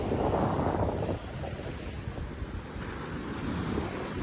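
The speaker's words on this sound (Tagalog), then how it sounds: "Sobrang masasaksihan nyo guys yung sobrang alon dito sa dagat" Ocean waves surge and wash loudly at a Batangas beach, mixed with strong wind buffeting the microphone, a roaring swell easing then building again.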